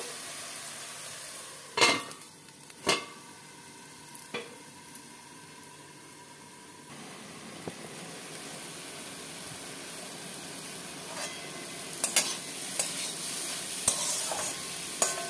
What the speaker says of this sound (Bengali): ঢাকনা বন্ধ করে শাকটাকে একটু সেদ্ধ হতে দেব।